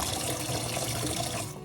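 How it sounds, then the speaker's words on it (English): Cold water runs steadily from a tap over potatoes being washed, in a strong, continuous splashing stream, close by, easing off slightly at the very end. "wash the potatoes well with cold water."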